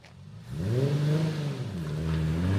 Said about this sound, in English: So I did my first clutch kick around this corner to get it into this bay